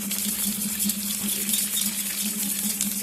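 Water pours steadily into a cooking pot while a spiced chicken kosha marinade of meat masala and whisked curd is prepared, a continuous close splashing gush with a low hum underneath, no voices.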